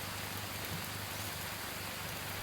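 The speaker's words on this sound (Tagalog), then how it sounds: "Ulan masyado dito." Heavy rain falls steadily in a dense, constant broadband hiss that stays even throughout and is heard alone, with no voices.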